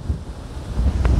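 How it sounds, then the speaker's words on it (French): Cold wind blows outdoors in Russia at about -6°C, with a felt temperature of -14°C. Brief, gusty buffeting rumbles against the microphone. "le vent souffle."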